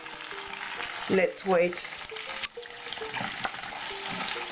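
Pine nuts and dried tomatoes frying gently in a pan give a steady, soft sizzle, with a brief burst of louder stirring partway through and a voice speaking briefly over it.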